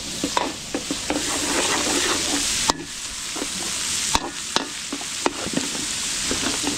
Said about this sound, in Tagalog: papupulayin muna natin yung bawang sibuyas